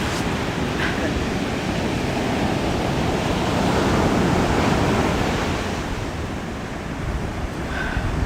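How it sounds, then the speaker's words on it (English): Sea waves break along the coast in an early-morning setting, a steady roar of surf and wash swelling and easing, with a faint bird call now and then above it. "You've all been relaxed by the sound of the sea."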